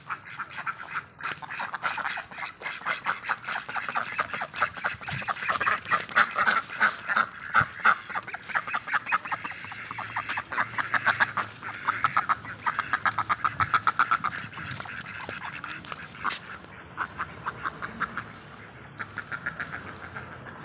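A flock of geese or ducks calls continuously, dense overlapping honks and quacks in rapid bursts, fairly close and loud, with no talking.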